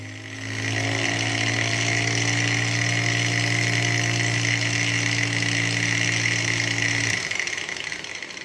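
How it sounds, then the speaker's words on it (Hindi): A homemade 220 V, 1000 W generator motor spins up and runs under the load of an angle grinder, a steady whirring hum with a grinding whine on top that drops away abruptly near the end; no speech. "लोड ले लिया दोस्तों, एंगल ग्राइंडर का लोड ले लिया ये जनरेटर मोटर"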